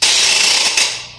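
A musical rattle gives one sustained, bright shaking burst up close, then tails off quickly, with no voices.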